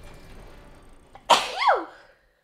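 One sharp sneeze bursts out close by after a quiet stretch, a quick explosive intake and release that trails off in a short nasal tail, with no talk over it.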